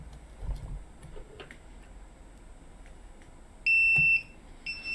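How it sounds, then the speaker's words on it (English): A buzzer alarm driven by a rewired hobby circuit sounds in two steady high-pitched electronic bursts, a long one followed by a shorter one, over a quiet room with faint clicks. "I use the same program to rewire my circuit for a buzzer"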